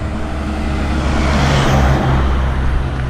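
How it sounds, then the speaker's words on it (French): Road traffic with many cars passing close by, a continuous rushing hum that swells as one vehicle goes past midway, loud and steady with no voices. "Ah, plein de voitures."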